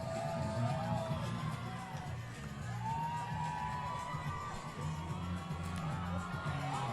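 Crowd at a Psicobloc deep-water solo climbing competition in Park City, a distant sustained roar of cheering, whoops and shouts carrying on steadily throughout.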